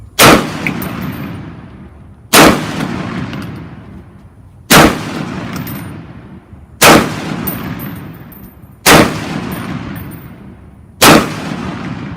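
Six loud, sharp rifle shots from an Olympic Arms MPR 308 ring out at a steady pace about two seconds apart, each crack followed by a decaying echo, with no talking.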